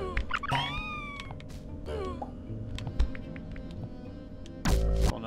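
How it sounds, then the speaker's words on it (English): Cat-like meowing cries from the bunny enemies in the video game Braid, several short rising wails over game music, with a louder burst near the end. "Those bunnies are really mean. They sound like cats, though."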